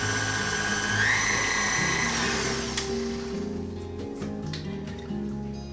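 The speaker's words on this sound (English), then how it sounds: "I'm just going to stir that together in the mixer" An electric stand mixer whirs steadily as it stirs ground cinnamon and vanilla extract into cinnamon cake batter, a continuous motor drone that shifts pitch partway through and then settles, with no talking.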